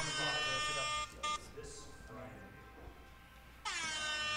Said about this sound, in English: You get one air horn.